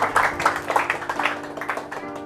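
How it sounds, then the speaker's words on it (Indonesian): A church congregation gives a short burst of applause for a woman, scattered clapping that rises and thins over a faint sustained tone. "Tepuk tangan untuk Bu Sisil dulu."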